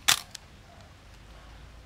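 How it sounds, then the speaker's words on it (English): Chinon CS 35mm film camera body firing its mechanical shutter: one sharp, close click followed by a fainter second tick, then near silence. "gonna show you the shutter now, to test the shutter and show you."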